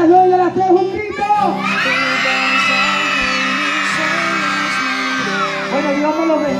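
A group of children in Peru shouts together loudly on a count of three, a sustained collective yell that fills several seconds, louder at the start and fading near the end.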